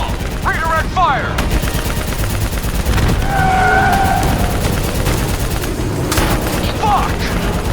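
Gunfire in the video game Call of Duty: Black Ops 3 rattles on dense and loud throughout, layered with battle noise and brief chirping tones, with voices talking over the firefight.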